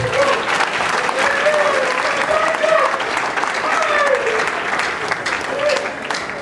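Church congregation clapping together, a loud, dense, continuous round of applause with excited voices and a few calls rising above it.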